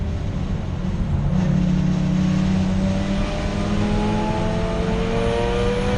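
Racing cars at Donington Park Circuit, including a Mazda RX8, Honda Civic and Toyota MR2, with engines roaring and revving continuously and loudly, rising tones as they accelerate, without talk.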